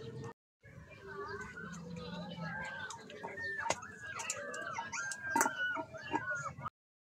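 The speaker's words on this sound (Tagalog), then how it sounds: "Kasi maligalig yung aking alagang tuta." A restless pet puppy whimpers and yips in a string of high, wavering whines, fairly close, with a quiet voice talking underneath at times before the sound cuts off.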